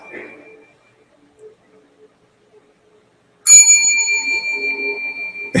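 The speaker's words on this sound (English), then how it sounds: "It's a bell. One of those bells at a hotel that summons the bellhop." A hotel service bell is struck once, a bright ringing ding that hangs and slowly decays, loud and close after a few seconds of near silence with faint murmurs.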